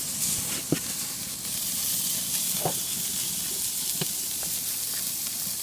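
Raw meat sears on a smoking-hot grill slicked with olive oil, a steady close hiss and sizzle running throughout with a few sharp pops and crackles scattered over it.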